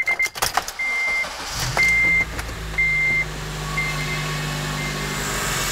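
A Honda Element engine cranks and catches, then settles into a steady idle close by, with a repeating electronic chime beeping over it at first.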